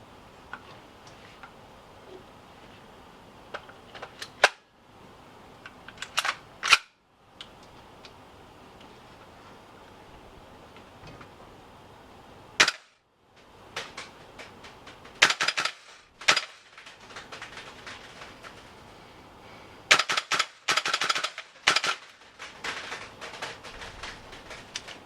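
A VFC 417 gas blowback airsoft rifle firing, sharp cracking shots and quick bursts with mechanical clacks, loud and close, spread unevenly between quiet pauses.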